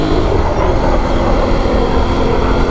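Aprilia Tuareg 660 motorcycle engine revving hard at high RPM, a loud, continuous, broadband roar with steady drone and no pauses, close to the rider and heard alone without talk.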